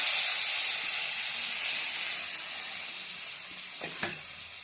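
Water hits a hot pan for a parshe fish curry and bursts into a loud, bright hiss that slowly fades, followed by a couple of sharp clinks near the end.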